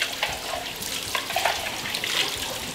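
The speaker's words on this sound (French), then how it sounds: "Et donc la dernière pièce, le bol que je vais rincer." Steady, loud running tap water splashes and gurgles as the bowl of a Kuvings juicer is rinsed under the faucet, continuous and close with no voices.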